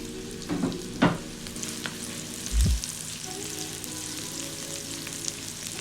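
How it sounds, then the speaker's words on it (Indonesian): Shallots and garlic sauté in a hot pan for a green bean and egg stir-fry, giving a steady close sizzle with a few sharp clinks and a low thump of the spatula. "lalu masukkan bawang putih, tumis lagi"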